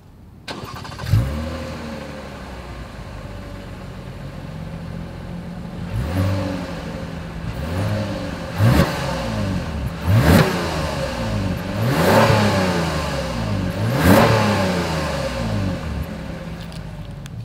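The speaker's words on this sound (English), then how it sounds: "you get dual exhaust with quad chrome tips for all the V6 trims like we have right now" A 2021 Toyota Camry V6 with dual exhaust and quad chrome tips starts up and revs repeatedly, with several sharp throttle blips rising and falling over a steady idle, heard up close and alone.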